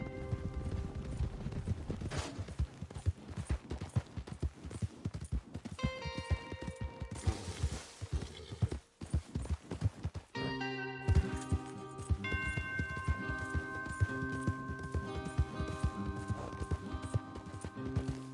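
Rapid hoofbeats of several horses galloping in the video game Red Dead Redemption 2, a dense rhythmic clatter with occasional metallic jingles and a brief lull midway.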